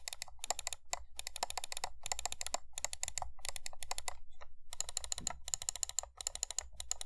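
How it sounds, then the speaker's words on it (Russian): Rapid bursts of crisp, close clicking from an EndGame Gear XM1R wired mouse with Kailh GM8.0 switches come in quick clusters with brief pauses between them, steady and loud throughout. "Клик сочный и яркий."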